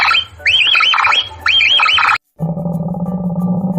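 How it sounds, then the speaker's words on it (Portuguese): A capybara calls in a run of repeated, arching chirps and squeaks in quick rhythmic bursts. After a brief silence, a different low, steady buzzing tone follows. "Esse é o som da capivara."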